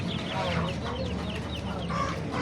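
Chicks for sale at a poultry bazaar in Navoi, a steady wash of many small birds peeping and chirping together, with fowl clucking nearby and a constant crowd murmur underneath.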